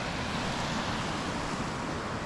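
Waterfalls rush beside a wilderness campsite along the Kopka River in Wabakimi, a dense, even roar of falling water that stays constant and close throughout, with no voices.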